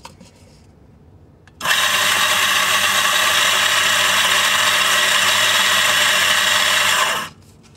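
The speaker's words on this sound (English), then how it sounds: "we're going to grind a full drop and then weigh that" A Quamar M80e coffee grinder grinds a full dose: a loud, steady high whir kicks in abruptly, holds for about five and a half seconds, then cuts off. A faint low hum sits before and after.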